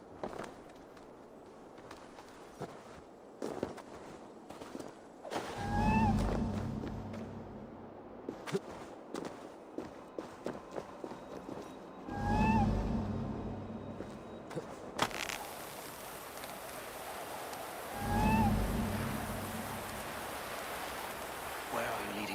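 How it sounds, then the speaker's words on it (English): A cat meowing in Assassin's Creed Valhalla, three short distinct meows spaced several seconds apart over a quiet ambient background with soft patter and steps. "Who put you up here, little cat?"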